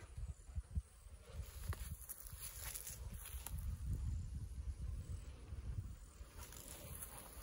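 Honeybees hum steadily around a small hive going into winter, a continuous low buzz that swells and fades slightly as insects pass close by, outdoors with a little wind and no talk.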